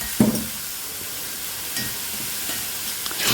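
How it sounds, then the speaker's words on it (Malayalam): A raw mango curry is stirred in a hot pan, with a soft ongoing sizzle broken by a few sharp knocks and scrapes of the spoon against the pan at irregular intervals. "നന്നായിട്ട് ഇളക്കണം."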